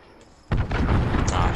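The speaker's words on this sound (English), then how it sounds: "Allied cruise missile away." A cruise missile explodes in a multiplayer shooter video game, a sudden loud boom after a brief quiet moment, followed by sustained rumbling and debris noise.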